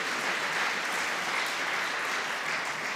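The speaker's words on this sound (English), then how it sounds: "Give the coders a round of applause." An audience at a healthcare awards ceremony gives a steady round of applause, dense and even throughout, with no voices standing out over the clapping.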